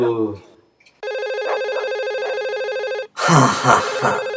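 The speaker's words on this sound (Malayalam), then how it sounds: "ഇതെന്റെ പിള്ളേരുടെ ഫോൺ ആയിരിക്കുമെന്നാ തോന്നുന്നത്." A telephone rings with a steady electronic tone for about two seconds, between brief bits of other sound, followed by a voice.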